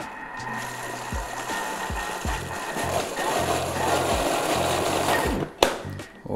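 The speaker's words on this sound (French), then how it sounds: "Et là on vient mixer, pas à fond quand même parce que ça peut trancher." A kitchen blender whirs steadily at moderate speed, blending mascarpone cream into a smooth coulis with faint rhythmic knocking underneath, with no talk and a brief clatter near the end.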